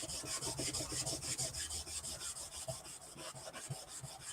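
A rag buffing wax into a small wooden farmhouse sign, heard as quick repeated rubbing strokes in a steady back-and-forth rhythm, close but quiet, with no talking.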